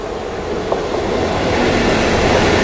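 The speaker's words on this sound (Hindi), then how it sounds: "देखो सामने से अभी कोई ट्रेन आ रही है जो कि निजामुद्दीन रेलवे स्टेशन को स्किप करते हुए जा रही है" A train passes at Nizamuddin railway station with a loud, steady rumble and faint clattering wheels that grow slightly louder over a few seconds, with no voices.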